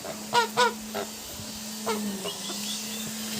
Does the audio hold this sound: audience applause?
no